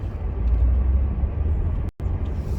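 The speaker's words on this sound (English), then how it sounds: "If you can hear that noise in the background, it's the heater that's on." A car heater blowing inside a petrol car on a chilly morning drive, a steady low whooshing drone mixed with road rumble, continuous and close, broken by one brief dropout near the end.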